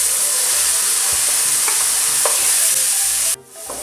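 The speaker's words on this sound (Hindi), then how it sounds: "अदरक, लहसुन और हरी मिर्चों का पेस्ट मैंने 1-2 मिनट भूना है।" Ginger, garlic and green chili paste frying in a pan for mash daal, a loud constant sizzle with a few stirring scrapes, dropping off abruptly near the end.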